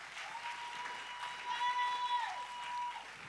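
A church congregation claps in a broad, moderately loud wash while a voice carries over the applause, with the clapping swelling slightly toward the middle.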